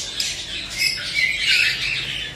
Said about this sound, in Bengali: এই লাভবার্ড পাখি, এই জোড়াটা দেখতে পারেন।